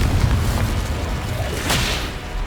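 A Confringo spell explodes during Hogwarts Legacy combat, a broad rumbling blast with a sharp burst partway through over steady low-end battle noise, fairly loud and with no speech.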